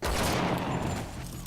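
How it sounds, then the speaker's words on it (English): A brief burst of gunfire rings out in a scene from The Walking Dead, several shots fired in quick succession with echoing tails, loud and close, with no talking. "When his gunshots ring out, then he realizes he's got to do something"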